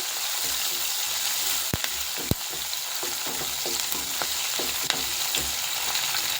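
Garlic sautés in a pan with curry leaves for tomato gojju, sizzling steadily while a spatula scrapes and taps in an irregular rhythm, close and fairly loud.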